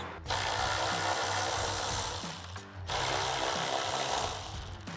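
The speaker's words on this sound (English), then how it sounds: "It's like a T25 torque socket to remove those." A power driver with a T25 Torx socket removes screws from the third brake light of a 2019-2026 Chevrolet Silverado 1500, two loud sustained whirring bursts close up with a short pause between.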